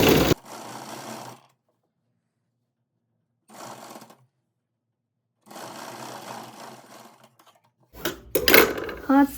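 A sewing machine stitches a seam on a blouse in three separate runs of fast, rattling needle strokes with silent pauses between them, then a brief clatter of handling at the end.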